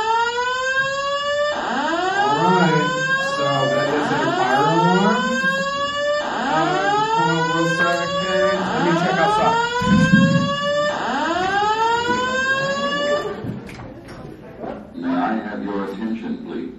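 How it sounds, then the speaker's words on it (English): A building fire alarm sounds during a comic and toy convention, blaring loud, repeated rising whoop tones in a steady cycle, with voices and chuckling faintly underneath before it cuts out near the end. "since somebody pulled the fire alarm"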